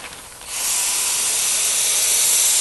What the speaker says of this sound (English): He's running about 24 PSI on the regulator, and he's going to go ahead and spray these forms.